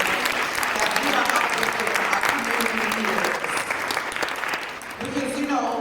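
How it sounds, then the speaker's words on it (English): Sustained applause from a crowd at a Garifuna celebration at New York City Hall, a dense steady wash of clapping with some voices mixed in, briefly dipping before swelling again near the end. "So let's give them a round of applause again"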